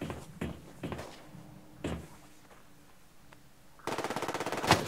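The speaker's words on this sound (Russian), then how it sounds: "Там мосинки стреляют." Mosin rifles fire in the online shooter Survarium. Several sharp, separate shots sound in the first two seconds, followed by a burst of rapid gunfire near the end.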